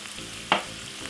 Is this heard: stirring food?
yes